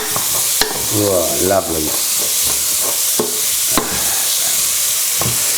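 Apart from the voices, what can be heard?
onions frying and being stirred in pan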